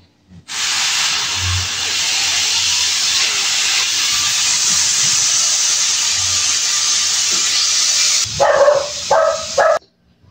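A pressure cooker full of beef innards lets out a loud, steady hiss that runs unbroken for about eight seconds, then cuts off and gives way to a few short clattering bursts.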